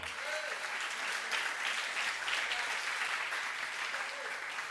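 A congregation at a Christian youth conference applauds, a continuous even patter of many hands heard at moderate distance and fairly soft, with faint voices rising briefly within it.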